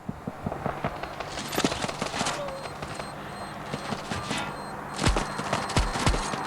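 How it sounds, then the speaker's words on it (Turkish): Gunfire in the mobile shooter Standoff 2: rapid bursts of automatic shots crackle almost continuously, with a few louder, heavier reports near the end. "Abi adama bir ton mermi sıktım ölmedi ya"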